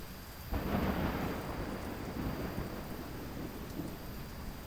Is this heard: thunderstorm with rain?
yes